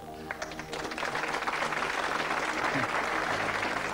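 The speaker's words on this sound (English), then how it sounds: "Your applause is getting weak and weaker, so save it till the end." A television studio audience at a magic and mentalism show claps in a thin, modest patter that builds slightly and holds steady for a few seconds, with no voices over it.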